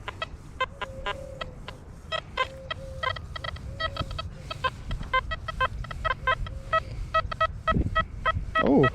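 Beeping tones from an XP Deus metal detector sweeping a park after a piece of foil has been removed from the target, a series of short repeated chirps with some rising tones, close and fairly loud.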